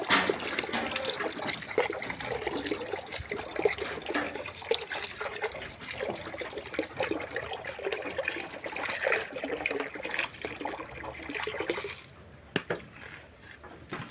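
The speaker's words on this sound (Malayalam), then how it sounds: "വെള്ളം ഒഴിച്ച് കൂട്ടുവാണിപ്പോൾ അതിൻ്റെ കട്ടകളെല്ലാം പൊട്ടിച്ച്" Water pours and splashes steadily into goat feed as it is stirred and its clumped powder broken up, a continuous gushing and sloshing that runs for about twelve seconds before dropping to a quieter trickle.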